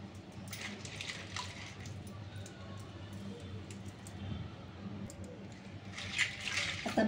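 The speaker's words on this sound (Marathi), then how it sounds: "धुताना मात्र स्वच्छ धुवायचे खेकडे" Raw crabs being washed in water, with steady splashing and squishing while they are rinsed clean, close and fairly continuous, with no talk.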